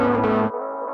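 A Pro Tools crossfade blends one full, bright track into a heavily filtered version, the low end and top dropping away abruptly halfway through a short one-second transition.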